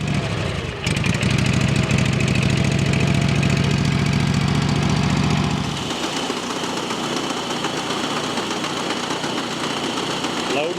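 A grain auger loads malt barley into the front of a Volvo truck, its engine drone loud and steady, then the pitch and load drop partway through as the run continues.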